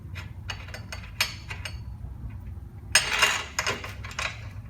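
Spindle pin removal tool being threaded onto the rear suspension spindle of a Datsun 240Z/260Z/280Z, giving scattered light metallic clinks and scraping clicks, with a denser burst of metal contact near the end, close and fairly quiet over a low background hum.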